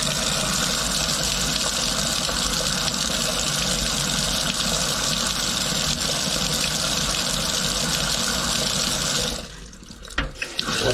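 Water gushes steadily from a newly repaired utility sink faucet, a loud, even, hissing splash that continues unbroken before cutting off abruptly near the end, followed by a few small clunks.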